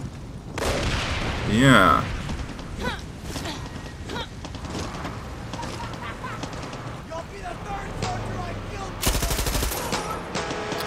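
Gunfire aimed at a target in the video game Far Cry 6, with scattered shots and a louder burst near the end, mixed with game sounds while someone talks briefly.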